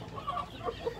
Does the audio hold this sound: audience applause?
no